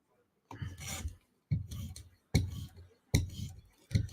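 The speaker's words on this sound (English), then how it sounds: "So I like this kind of stropping now." A titanium Lynch Shaman knife with an M4 steel blade is stropped in five separate rasping strokes, each a short, close, dry rub with a sharp start, spaced by brief pauses and heard alone.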